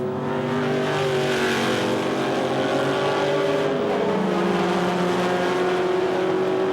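Race cars lap the Silverstone circuit at the Silverstone Classic, a continuous engine drone with overlapping tones that shift in pitch as cars pass, heard from a distance at moderate level without talk.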